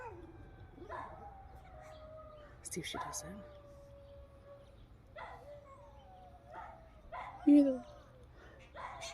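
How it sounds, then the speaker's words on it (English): A neighbor's dog howls in drawn-out, wavering cries, coming through several times at a moderate distance, with a person speaking quietly over parts of it in an outdoor morning setting near a rabbit room. "you got to hear the neighbor's dog when she howls"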